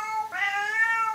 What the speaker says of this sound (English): Chester, that was my cat.